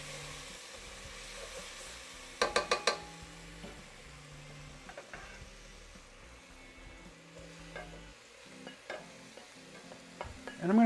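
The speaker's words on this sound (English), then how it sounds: "And I'm using that olive oil. Stir up our onions." Onions and beef frying in olive oil, stirred in a pan: a low, quiet sizzle with a quick run of metallic clicks early on, scattered utensil scrapes, and a louder clatter at the very end.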